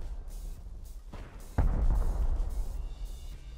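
Explosions in the survival game Rust during a raid on a brick base: a muffled distant thud, then a much heavier nearby boom with a long low rumble that lingers and slowly fades.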